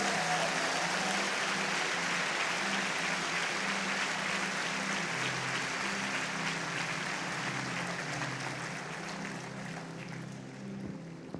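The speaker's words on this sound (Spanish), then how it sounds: "Denle ese aplauso a Jesús bien fuerte," A church congregation applauding for Jesus during a Sunday service: a broad wash of sustained clapping, fairly distant and even, with a low sustained musical tone underneath and a slight fade toward the end.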